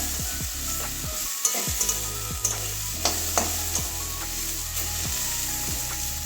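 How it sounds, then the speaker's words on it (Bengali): Flat beans with bori being stirred in a pan, a run of close scraping and knocking strokes from the spatula every half second or so over a soft sizzle, with no voices. "নাড়িয়ে দিচ্ছি আর একটু সিদ্ধ হবে"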